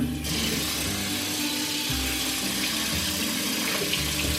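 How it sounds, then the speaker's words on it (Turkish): Water gushes steadily from a bathroom tap for face washing, a close, continuous broadband splash running the whole time with no voices. "Tamam şimdi yıka. Suyu açsana."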